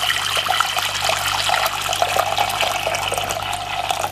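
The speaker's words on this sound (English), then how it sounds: "So what I'm gonna do is pour some water inside of it." Boiled water from a kettle pours steadily into a medium pot in a kitchen, making a continuous loud splashing gush close by with no talking.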